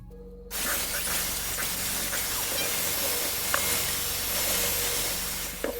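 A spray paint can hisses continuously at close range in a basement, a steady loud spray that starts abruptly and runs without pause.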